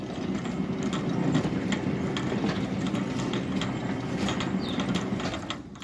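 An electric sliding gate motor drives the gate with a steady, faint mechanical whirring and grinding that runs throughout, with no talking.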